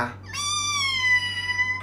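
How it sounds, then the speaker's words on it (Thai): A single cat meow rises and then slowly falls in pitch, drawn out and close, over a low steady hum. "เสียงแมวธรรมดา"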